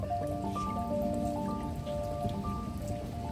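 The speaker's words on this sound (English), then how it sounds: "You like the rain?" Steady rain patters on surfaces outdoors during a heavy downpour, a constant soft hiss with scattered drops and a faint low tonal hum beneath it.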